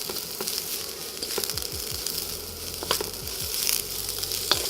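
Cabbage sautéing with garlic in a pan, a soft steady sizzle with scattered clicks and scraping stirs, fairly close and quiet, without talk.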